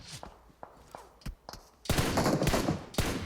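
Gunfire from PUBG Mobile: scattered single shots early on, then a dense, loud burst of rapid automatic fire in the second half, with footstep-like thuds mixed in.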